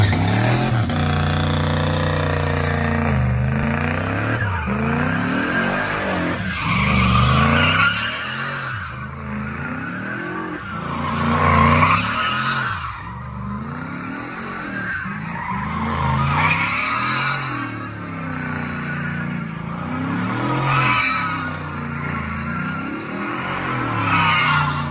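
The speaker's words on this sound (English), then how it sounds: "Cut to the clip of this guy letting me do a donut in it." A 1962 bubble top car with an LS3 V8 and turbo 400 transmission does a donut, its tires squealing and skidding loudly in long repeated waves over a revving engine for about 25 seconds.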